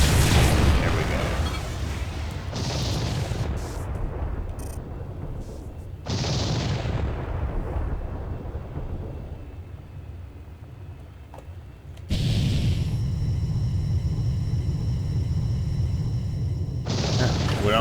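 Missiles launching and detonating in a Freespace 2 space dogfight, with loud booming blasts returning every few seconds over a steady engine rumble, and a voice talking at times.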